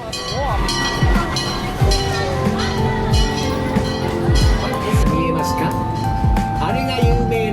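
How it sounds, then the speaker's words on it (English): The Western River Railroad train at Tokyo Disneyland rumbles and clatters along with rhythmic clanks and squeaks, while people talk and a tinny melody plays nearby. "And then the Western River Railroad."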